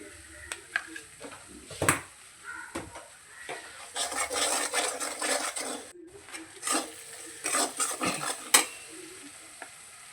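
Spice masala fries in oil for doi katla, a Bengali fish curry. Irregular spoon scrapes and stirring strokes run over a soft sizzle, growing busier midway, with quiet gaps between.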